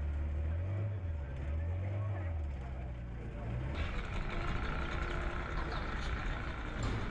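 Outboard engine of a pinasse passenger boat crossing the Ébrié lagoon between Marcory and Cocody, a steady droning motor running throughout at moderate distance, with a voice talking over it.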